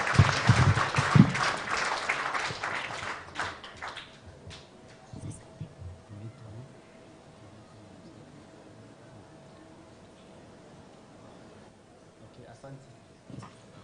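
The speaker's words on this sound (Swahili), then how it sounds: "MCAs tafadhali tuwapigie makofi." A crowd at a political rally in Kirinyaga, Kenya, applauds county assembly members (MCAs): a dense burst of clapping for about four seconds, then a quieter stretch with scattered sounds and some talk.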